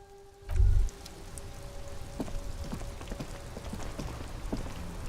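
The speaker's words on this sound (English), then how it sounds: "It's raining again." Rain in the video game Disco Elysium patters steadily with scattered drop taps and a soft hiss, preceded by a short low thump at the start.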